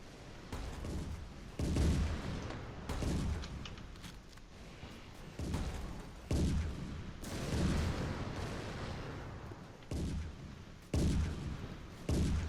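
Video game units firing at aircraft and helicopters in a toy-themed battle: repeated loud gunfire bursts with booming low ends and short decaying tails, spaced a second or two apart, with no talking.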